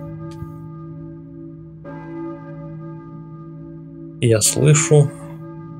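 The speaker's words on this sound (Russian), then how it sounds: "церковный колокол. Кто звонит в колокол?" In the PS One game Silent Hill, a church bell rings with long sustained tones. A person speaks briefly over the ringing near the end.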